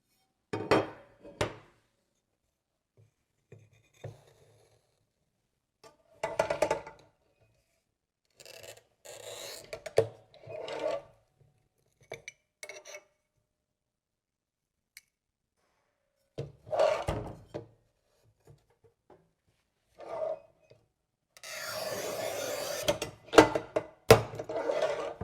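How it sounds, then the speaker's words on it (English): A glass tile is cut on a rubber mat with a Masterpiuma P5 tile cutter. Close, isolated bursts of scraping, clacking and mechanical knocks are separated by silent pauses, ending in a longer rasping stretch with sharp clicks. "The same rubber mat could be very useful to cut glass tile like this."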